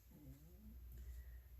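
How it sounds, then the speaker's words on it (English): A dog snores in low, rumbling breaths, a steady and fairly faint rasp that runs through the whole moment with no talking over it. "my dog is making a racket here, snoring"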